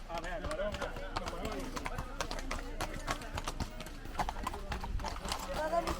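Horses ridden by mounted Guardia Civil officers clip-clop along a Camino de Santiago route, with a busy rhythmic clatter of hooves close by while people talk over it.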